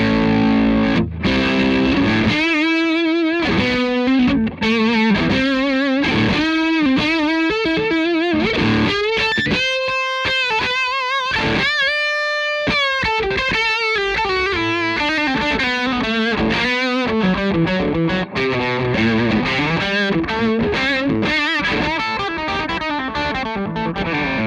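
An electric guitar played through a Fulltone Fatboost 3 boost pedal with the treble turned up high: a long run of loud, driven, slightly distorted notes and chords with bright, sustained held notes in the middle, alone and close.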